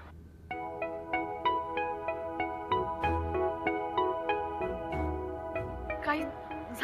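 A phone ringtone plays a steady melody of repeated bright tonal notes after a number is dialed, indoors, loud and continuous for several seconds.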